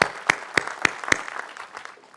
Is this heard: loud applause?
yes